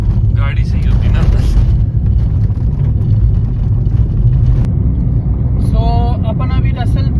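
Car driving along a rough off-road track near Russell, New Zealand, with a loud, steady engine drone and road rumble throughout, voices talking over it.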